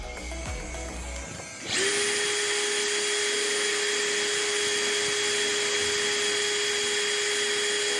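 A Dewalt DCD796D2 cordless drill spins up to its second speed, a sharp rising whine after a short quiet start that settles into a loud, steady high-pitched motor drone.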